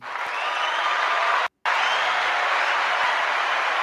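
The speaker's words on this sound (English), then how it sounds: "Clap, clap, clap, clap, clap." Audience applause during a live-streamed talk show: an even, hissing wash of clapping that cuts out abruptly for a split second, then resumes just as steadily.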